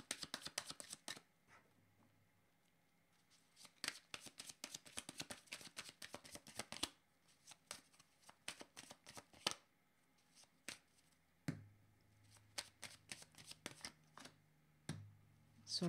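A deck of cards is shuffled again and again, close and quiet, in rapid riffling bursts with short pauses between them.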